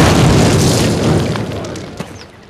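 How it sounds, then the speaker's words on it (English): In a Call of Duty training level, explosives blow up a cinder block wall with a loud, booming blast that rolls on and slowly fades into rumbling debris, with a small pop near the end. "Place your explosives on the cinder block wall."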